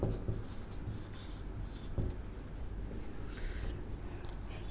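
A teacher writes on a classroom board during an English lesson, producing faint scratchy strokes and a couple of light taps against low room noise.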